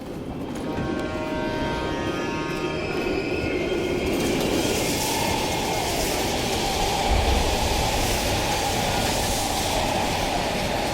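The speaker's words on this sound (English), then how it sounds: "Patrol ahead. We can use the train to slip past." A train rumbles steadily past an abandoned East German station in Call of Duty Black Ops Cold War, loud and close, with a faint metallic wheel whine early on and no talk.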